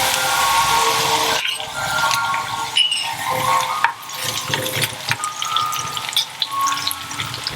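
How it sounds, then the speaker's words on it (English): Garlic hitting a hot pan for Murgh Jal Mal Zafrani curry, a loud steady sizzle with scraping stirs and a couple of sharp clinks from the utensil against the pan. "So now I'm going to add the garlic."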